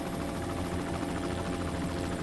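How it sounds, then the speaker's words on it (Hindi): A helicopter flies in a Hindi-dubbed Hollywood action film, giving a steady, dense rotor and engine roar that fills the whole stretch at even loudness, with no talk over it. "हेलीकॉप्टर नीचे लो।"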